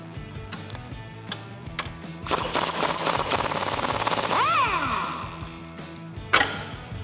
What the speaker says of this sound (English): We're going to use that same 15mm wrench and that 18mm socket to remove these bolts.